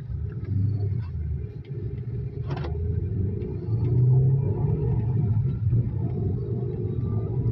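A 2004 Opel Vectra C under full-throttle acceleration, its engine giving a steady, loud low rumble that holds and swells slightly through the run, heard from inside the car with no talk.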